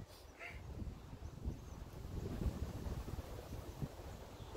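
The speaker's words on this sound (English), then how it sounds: "Why is it really so windy right now" Wind blowing outdoors, a faint low rumbling buffet across the microphone with steady gusty fluctuations throughout.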